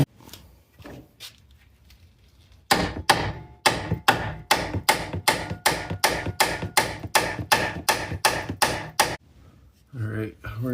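A hammer strikes a rusted outer tie rod end on a Mitsubishi RVR or Outlander Sport, about twenty sharp metallic blows in a fast, even rhythm, loud and close, with a few lighter taps before them.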